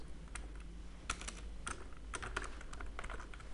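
Quick, steady typing on a computer keyboard, with crisp clicks in a busy irregular rhythm, close and clear over a low background hum, with no talking.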